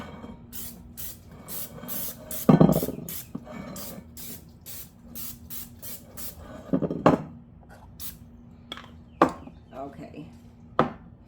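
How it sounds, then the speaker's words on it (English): Short hissing bursts of cooking spray repeat in quick succession, close and crisp, with a couple of louder sprays and light clatter in a quiet room. "Let me get my spray out."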